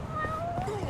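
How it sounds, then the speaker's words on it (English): A cat meows in the Yakuza: Like a Dragon video game, with a short rising and falling cry over a constant game background and some talk mixed in. "Good thing I came over here, because I hear a cat"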